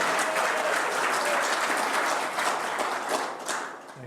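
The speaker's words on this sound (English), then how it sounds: "if we could give him a huge round of applause" A room of attendees at an electric vehicle expo talk applauds a speaker, with close, dense clapping that holds steady before tapering slightly at the end.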